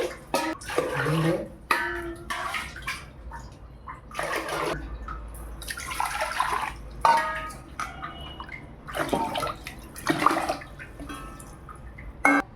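Water pours in several bursts into a cooking pot, splashing and gurgling, with quieter pauses and small clinks between pours.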